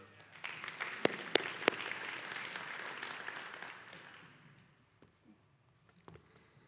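Church congregation clapping hands during a Sunday service, a dense steady wash of applause with a few sharp close claps, fading out over the last couple of seconds into quiet room noise.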